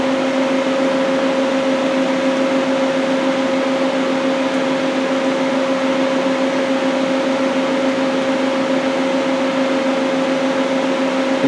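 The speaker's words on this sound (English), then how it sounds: "Go ahead and run the spindle." Spindle of a Daewoo Puma 240 CNC turning center runs alone at a constant speed, giving a steady two-tone whine over broadband machine hiss that holds unchanged throughout.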